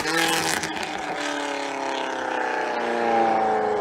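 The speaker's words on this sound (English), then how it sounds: "So there it sounds a lot more like a Ferrari V8." A Corvette C8 Z06 race car with a flat-plane crank V8 screams by with a high-pitched, sustained wail, its pitch sliding down as it moves away from the listener, loud and steady throughout.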